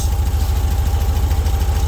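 Air-cooled VW 1600 cc flat-four, with 30 degrees total timing advance, idling steadily right after a cold start following six months unused, a close, loud, even low-pitched throb with a rapid regular pulse.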